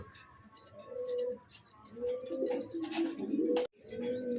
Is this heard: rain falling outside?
no